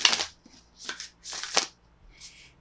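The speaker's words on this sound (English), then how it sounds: "Let me just shuffle my deck." A deck of oracle cards shuffled by hand at close range, four separate riffling bursts with short quiet gaps between them and no talking.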